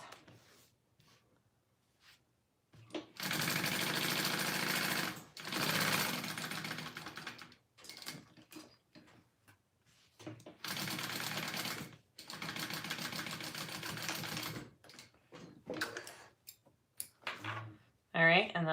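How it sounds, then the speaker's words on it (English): Home sewing machine running in two long sustained bursts while basting a wallet's inside liner with a narrow seam allowance, close and steady, with short clicks and handling noises between runs. "I'm just basting with 1/8 of an inch seam allowance"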